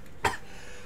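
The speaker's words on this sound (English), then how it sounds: "Fucking cough on me!" A single short cough bursts out once amid quiet background during a drunken Mario Party 5 gaming session, brief and fairly close.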